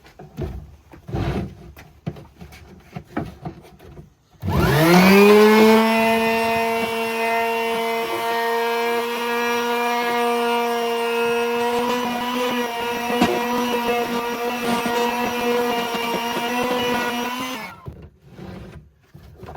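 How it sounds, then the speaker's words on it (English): A Makita angle sander with 60 grit sandpaper works an antique oak desk, starting with a rising whine and holding a loud, steady buzzing drone for about thirteen seconds before cutting off, with quieter handling sounds before and after. "So I've got the Makita with the angle, 60 grit sandpapers."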